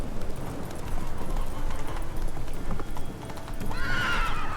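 Roach the horse in The Witcher 3 galloping with rapid, steady clip-clop hoofbeats close by, ending in a loud neigh.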